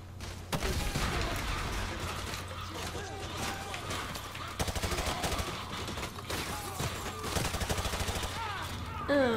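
Rapid gunfire and bursts of automatic weapons fire from the Modern Warfare 2 Remastered video game, dense and loud throughout, with voices talking over the shooting.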